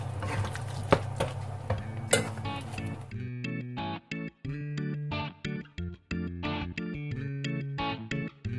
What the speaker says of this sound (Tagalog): Hahaluin nyo lang ng hahaluin hanggang mag-mix yung coconut and yung glutinous rice.